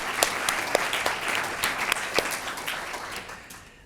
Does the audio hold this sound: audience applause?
yes